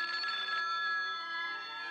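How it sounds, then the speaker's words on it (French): Cartoon telephone ringing with a bright, sustained electronic bell tone, clear and alone for a couple of seconds. "Papa, le téléphone."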